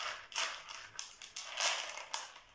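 Dry pasta shaken gently inside a plastic box makes a light, crisp clatter in several short bursts, close by and fairly quiet, alone without voices.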